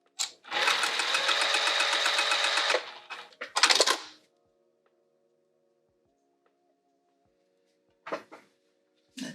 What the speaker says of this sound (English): I'm gonna sew down each long edge